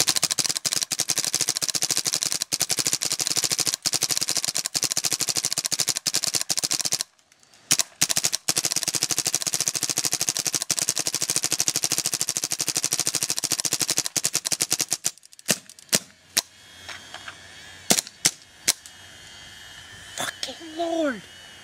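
A gun on full auto rips through a 40-round magazine, a dense, continuous stream of rapid shots that stops abruptly, then a few scattered single cracks with someone talking afterward.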